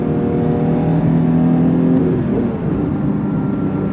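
A 2023 Porsche 911 GT3 Touring with a six-speed manual accelerates under throttle, its engine droning loud and steady from inside the cabin as the revs climb briefly and then ease.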